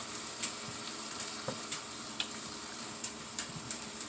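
Frozen vegetable scraps sautéing in a soup pot, a low steady sizzle with sharp little ticks and clinks from utensils or ice scattered across it, close and moderately quiet.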